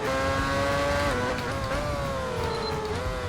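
F1 race cars in a video game scream along in a loud, continuous engine whine whose pitch dips and climbs with gear shifts and jostling, with no voices over it.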